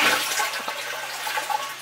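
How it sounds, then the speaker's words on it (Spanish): Japanese toilet in a Tokyo apartment flushing, then the cistern refilling from the tap, a steady close rushing and trickling of water with no talk. "Ahora sale el agua y se rellena a través de la cisterna."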